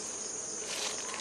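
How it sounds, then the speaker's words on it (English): Bees, queen and workers together, buzz in a short, faint burst, a thin steady drone that swells slightly near the end. "The queen and the workers are all there, buzzing."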